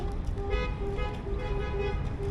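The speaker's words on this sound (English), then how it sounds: "Everybody's honking and stuff." Car horns honking during a festive street celebration in Morelia, Mexico, with costumed revelers and balloons; repeated short toots and tonal blasts sound over steady traffic rumble, with crowd noise in the background.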